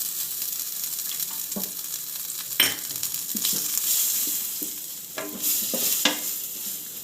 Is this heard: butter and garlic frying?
yes